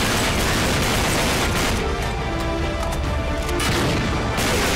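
Gunfire in the Uncharted 3: Drake's Deception video game, a dense, loud barrage of shots and booms rolling over several seconds, with no talking.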